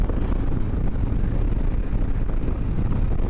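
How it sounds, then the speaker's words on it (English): Loud, constant wind buffeting roars across the microphone while riding a Harley-Davidson Road King motorcycle in a crosswind, a dense low rumble with no voices. "it's a little windy out here."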